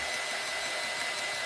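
A hair dryer blows warm air over paint on a tumbler cup ahead of an epoxy coat, producing a steady, close, unbroken whooshing hum with no talking.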